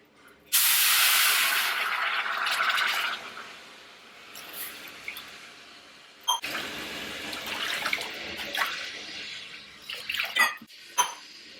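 Water pours steadily into a cooking pot for Thiruvathirai kali, a loud hissing splash that starts abruptly and runs for a few seconds, followed by quieter trickles and small clanks as the vessel is handled.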